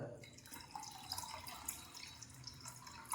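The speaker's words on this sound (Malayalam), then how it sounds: "വെള്ളം കൊടുക്കാം" Water poured into buttermilk curry (moru curry) being prepared in a kitchen, a steady close splashing trickle that runs for a few seconds.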